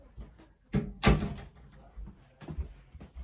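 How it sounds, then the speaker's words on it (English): An interior door closes with a solid thunk and a brief rattle, one main impact followed by softer knocks, heard nearby in a quiet room. "I need to close the door."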